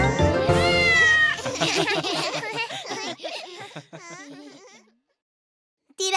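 A voice imitates a ginger kitten in a children's song, producing a quick series of high, wavering sung meows that trail off into silence before a brief new sound at the end.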